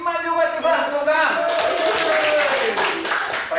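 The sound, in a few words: children clapping hands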